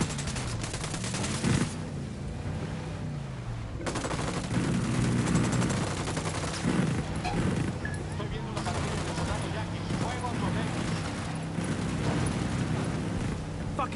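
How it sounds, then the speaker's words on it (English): Gunfire in a video game firefight, rapid bursts of automatic shots and scattered single cracks over a steady low engine-like drone, loud and sustained, with no spoken voice over the shooting. "I'm shooting these fuckers."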